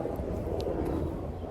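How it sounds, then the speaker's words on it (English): A helicopter passes overhead outdoors, heard as a steady, distant low rumble with wind buffeting and no talking. "Excuse the helicopter in the sky."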